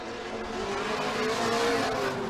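Drift cars, a V8 and a four-cylinder turbo, roar at a distance with a sustained engine drone and tire noise, the pitch rising and falling slightly as they run together.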